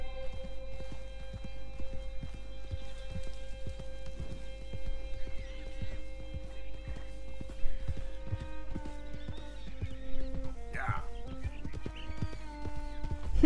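A mule's hooves clip-clop in a steady, close rhythm while being ridden in Red Dead Redemption 2, with a whinny partway through and soft music beneath.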